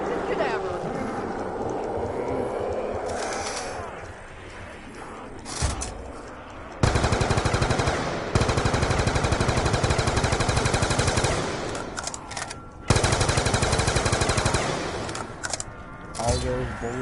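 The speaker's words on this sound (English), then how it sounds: "All those bullets I shot off the path." Gunfire from Black Ops 2 Zombies: loud sustained bursts of rapid automatic fire dominate, broken by short pauses, with someone speaking in character over the shooting.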